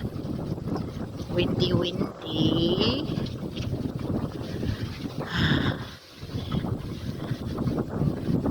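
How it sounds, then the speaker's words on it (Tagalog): Gusty autumn wind buffets the microphone outdoors with a continuous rumbling roar that surges and eases, while a person speaks intermittently over it. "So ganito yung weather. Medyo windy."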